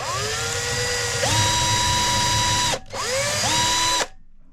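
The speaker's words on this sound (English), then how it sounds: "We're just going to drill a hole right in the back of it" A power drill with a wood bit whines up to speed drilling a hole in wood and holds a steady high pitch, stops briefly, then spins up again before cutting out, loud and close.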